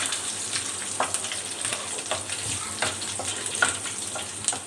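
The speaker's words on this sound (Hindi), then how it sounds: "लहसुन अदरक को हम गोल्डन गोल्डन जो है ब्राउन कर लेंगे।" Garlic and ginger fry in hot oil for an okra curry, giving a steady close sizzle with soft crackles and occasional spatters and no voices.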